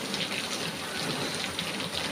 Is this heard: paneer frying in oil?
no